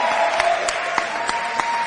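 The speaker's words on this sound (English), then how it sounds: "we also need to do a round of applause for Dr. Diane Riney" An audience at the Baton Awards 2023 livestream claps in a brief, steady burst of applause with a few sharper claps standing out, heard close and fairly loud.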